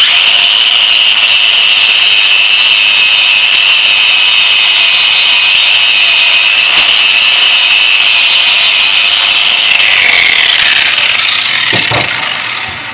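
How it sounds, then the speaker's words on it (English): Angle grinder with a flap wheel grinding a metal tomahawk head, a loud continuous high-pitched whine and abrasive rasp that shifts pitch as pressure changes, then spins down at the end. "it's probably going to be a mixture using the grinder and the flappy wheel to get in there"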